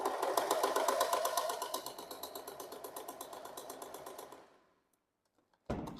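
A sewing machine stitches a seam with its seam allowance, a close, steady rapid rattling run of about four seconds that fades to silence before a short burst resumes.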